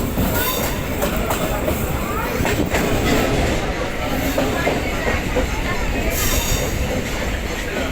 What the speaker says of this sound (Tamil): ட்ரெயின் போகிற ஸ்டைலை பாருங்கள், வேறு லெவலுங்க.